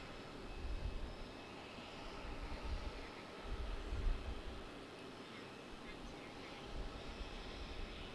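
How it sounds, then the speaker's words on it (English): A Frontier Airbus A320 from Atlanta lands at Raleigh-Durham airport with a low, rolling engine rumble that surges and fades gently, heard at a distance throughout. "holding here at the runway because we have Frontier from Atlanta, Georgia landing. Frontier 320."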